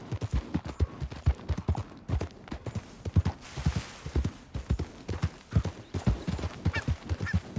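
A horse's hooves clip-clop in a steady galloping rhythm as the rider travels in Red Dead Redemption 2, loud and close, with an occasional snort or whinny and no talk over it.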